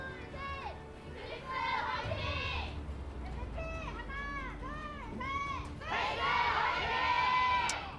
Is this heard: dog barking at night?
no